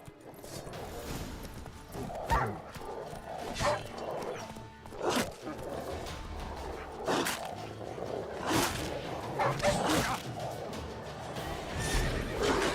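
Geralt's horse Roach in the fantasy game The Witcher 3: Wild Hunt, with irregular hoof thuds and snorting neighs over a murky ambient bed, punctuated by occasional sharp louder hits.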